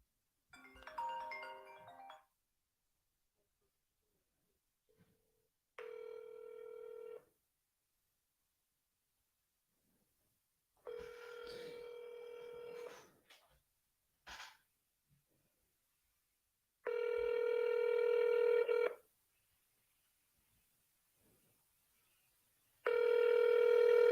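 Telephone on a real estate cold call to a for-sale-by-owner seller: separate bursts of dial tones and ringback tones with silent gaps between them, each tone steady and clear, heard close and alone.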